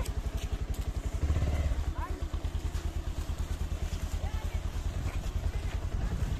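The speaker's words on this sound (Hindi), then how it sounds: "और एक भाई मेरे पीछे आते हुए बाइक में।" A motorbike rides behind on a snowy village road in the hills, its engine chugging steadily and close throughout, with a brief louder surge near the start.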